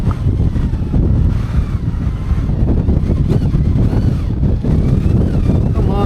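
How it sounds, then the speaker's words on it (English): Strong gusting wind buffets the microphone on an exposed hilltop ridge, a loud continuous low roar with rising and falling gusts up to about 29 mph, no voices. "It's definitely windier."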